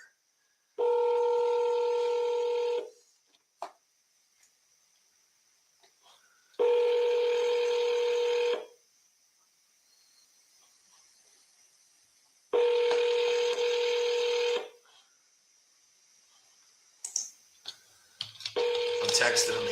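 Ringback tones on a phone call, with three long steady tone bursts of about two seconds each separated by silent gaps, loud and close, followed by a brief jumble of clicks and a voice-like sound at the end.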